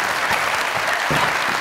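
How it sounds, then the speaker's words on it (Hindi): A studio audience on a comedy talk show bursts into loud, steady applause, a dense close clapping that carries through the whole moment. "जैसे उनकी अच्छी बात पे ताली थी"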